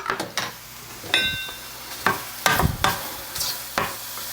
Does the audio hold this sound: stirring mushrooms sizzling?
yes